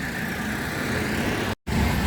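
Night road traffic in Asaba, Delta State: a steady drone of car and truck engines idling and rolling in a hold-up, close and continuous, with a brief dropout near the end.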